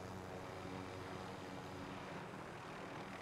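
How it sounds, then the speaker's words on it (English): A helicopter in the video game Warzone gives a steady, droning engine and rotor roar that stays constant and fills the whole stretch with no voices over it. "I'm gonna ditch this fucking helicopter."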